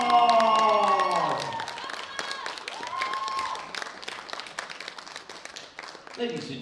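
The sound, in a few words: audience applause for a bench press gold medal winner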